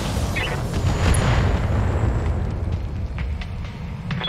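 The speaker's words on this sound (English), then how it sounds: "Enemy vehicle destroyed." An enemy vehicle explodes in the mech combat video game Battletech, a loud, sustained deep rumbling boom with crackling debris that fades slowly over several seconds, with no talk.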